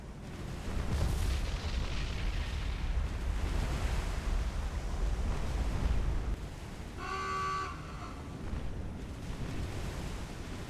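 Torpedo explosions in the naval combat game War on the Sea, Pacific campaign, heard as a continuous heavy rumble of booms over surging sea noise that eases off after several seconds.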